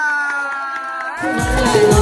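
At a Shimga festival gathering in the Konkan, a musical tone fades into a sudden burst of crowd noise, with people clapping and cheering for a birthday, loud and close.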